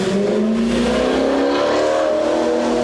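A loud car engine revs hard and rises steadily in pitch, a continuous roaring drone that dominates the scene from close by.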